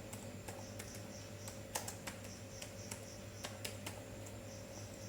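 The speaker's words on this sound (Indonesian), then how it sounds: "Lalu di sini kita ketik seperti ini." Keystrokes on a computer keyboard as a command is typed while installing a custom ROM on a Realme C21 phone: quiet, sparse, irregular clicks over a steady low hum.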